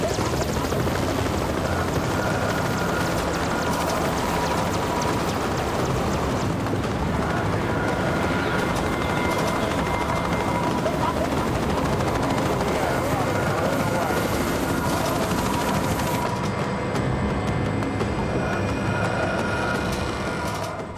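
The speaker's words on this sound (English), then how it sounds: "The Merlin helicopter is being prepared for takeoff" A Merlin helicopter being readied for takeoff on a counter-piracy operation off Somalia gives a loud, steady roar of engine and rotor that fills the whole span without a break.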